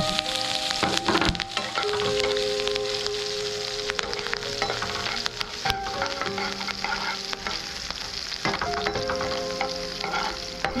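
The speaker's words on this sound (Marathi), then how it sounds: "फोडणी पूर्ण झाली नंतर टाकले मी मिरची" Sliced green chilies frying in a hot cumin tempering for Marathi-style kande pohe: a steady, loud crackling sizzle with scraping stirs throughout and no voices.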